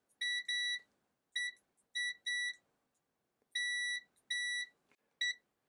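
A ZT-QS7 micro current AC/DC clamp meter in continuity mode gives a series of short, high electronic beeps in irregular clusters, clear and close against near silence.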